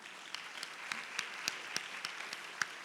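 Scattered, faint hand claps from an audience at a Ministry of Education launch ceremony in Malaysia for an anti-smoking and anti-vape healthy living campaign. The sharp claps are sparse and fairly even, with quiet room tone between them.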